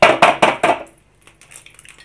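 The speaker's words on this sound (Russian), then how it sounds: "Разбиваем яйцо." An egg cracked into a frying pan over heated oil: four sharp knocks of shell on the pan in quick succession, then faint soft crackle and sizzle trailing off, close by with no speech.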